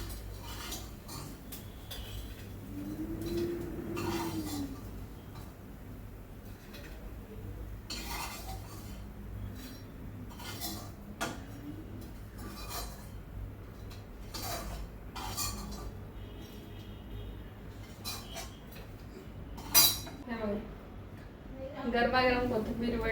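Fried kothimbir vadi, a coriander fritter, being lifted from a pan onto a plate, with light clinks of cutlery and plate against a steady background, someone talking throughout.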